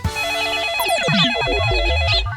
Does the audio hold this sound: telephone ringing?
yes